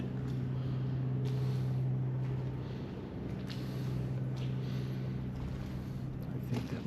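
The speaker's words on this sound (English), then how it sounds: "I think that might be an air compressor." Inside an empty feed warehouse, an air compressor drones low and steady as a constant hum, with faint room noise and scattered soft knocks over it.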